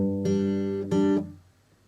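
A song fingerpicked on guitar: two sustained plucked-string onsets about two-thirds of a second apart, close and clear, then ringing out alone with no voice.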